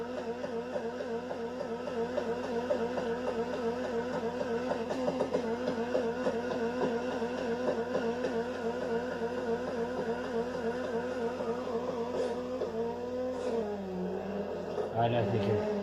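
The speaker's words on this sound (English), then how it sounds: "Oh, just listen to that V8." A V8 engine with a custom exhaust sound in the racing game Need for Speed Heat hums steadily at a moderate, even level, with a brief shift in tone near the end.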